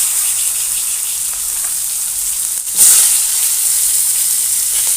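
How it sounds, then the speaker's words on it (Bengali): Pointed gourd pieces drop into hot oil with green chili and five-spice seeds for a fish curry, setting off a steady hissing sizzle that surges briefly louder midway, close and with no talking. "তো তার উপরে পটলগুলো দিয়ে দিচ্ছি।"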